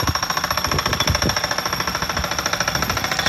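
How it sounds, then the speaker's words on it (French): Rapid, steady mechanical pounding from a tractor-mounted pile driver driving posts into the ground in a young peach orchard, with the strikes coming in an even rhythm over a constant engine drone. "le bruit que vous entendez derrière moi, c'est l'enfonce-pieux, donc un tracteur qui comporte un enfonce-pieux"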